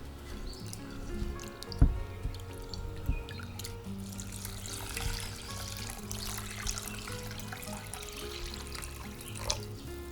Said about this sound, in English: wash it thoroughly several times until the water runs completely clear